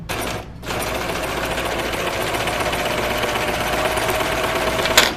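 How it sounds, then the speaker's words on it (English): A serger chain-stitches at speed while sewing a knit dress, a brief pause near the start and then a continuous close buzzing run, with a sharp clack near the end. "So a serger you can sew without fabric in it"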